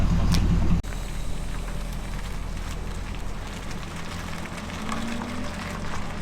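A turbocharged Ford Crown Victoria burnout-challenge car drives away, its engine a steady low rumble after a brief louder burst at the start, continuing at an even level with no talk.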